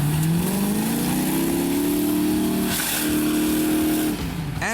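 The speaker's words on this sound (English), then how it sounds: "flooring the V8 engine is the only way to roll here" A Land Rover Range Rover's V8 engine revs hard and loud off-road through mud, its pitch climbing and holding as it strains, with a dip near the end as the load changes.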